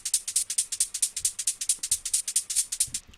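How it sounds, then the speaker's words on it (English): Layered shaker samples in FL Studio, with reversed shakers swelling into forward hits for a speed garage groove, sounding as a brisk, evenly repeating bright rhythm heard alone, with faint low thumps underneath. "Now, I've reversed some shakers for some effect here."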